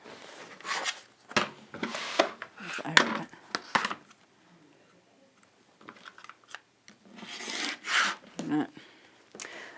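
A cutter trims fabric along a ruler on a cutting mat, giving short scraping and rubbing strokes in bursts with quiet gaps between them, close by.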